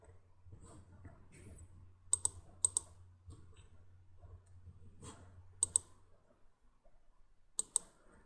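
Sharp computer mouse clicks come in small paired bursts every second or so, crisp and close over a low steady hum, with faint murmuring in the background.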